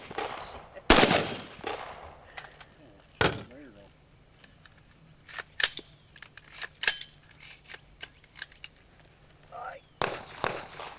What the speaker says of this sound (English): I'm going to let you hear with the suppressor on. So you can shoot the gun.